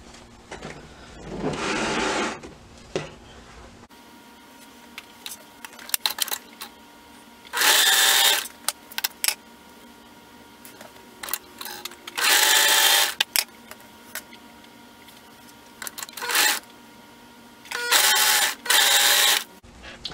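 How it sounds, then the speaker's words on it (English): A sewing machine stitching the crotch seams of an adult swimsuit runs in several loud, close bursts of rapid mechanical whirring, separated by quiet pauses with small handling clicks. "for the crotch, I'm going to go ahead and sew all of those"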